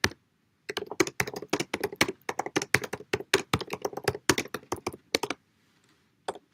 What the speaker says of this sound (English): I'm going to type it into the chat too